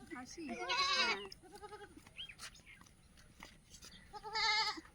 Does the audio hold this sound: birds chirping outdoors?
no